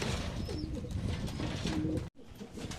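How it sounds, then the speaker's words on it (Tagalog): Pigeons being fed coo softly in the distance over a steady, rumbling background noise, with a brief dropout near the end. "Ayan, kasalukuyan, nagpapakain tayo ng mga kalapati natin."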